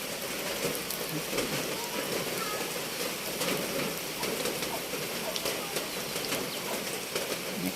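Steady rain falls outdoors as a continuous dense hiss with scattered drop patter, holding an even level throughout with no pauses.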